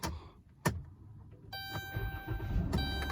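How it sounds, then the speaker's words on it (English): A 3.6L Dodge Grand Caravan engine starting: a brief click and short starter crank, then the engine catching and settling into a steady idle with a faint high whine, close by, without talk. "Start the vehicle."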